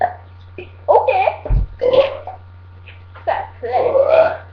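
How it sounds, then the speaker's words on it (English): Loud, drawn-out burps from kids in a burping contest, several separate belches in a row with short gaps between them, close to the mic over a steady low hum. "We are now going to do a burping contest."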